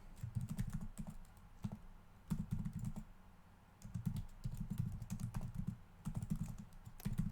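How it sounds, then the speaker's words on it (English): Typing on a computer keyboard, close and clear, in quick bursts of key clatter separated by short pauses, with no voices. "I will continue typing."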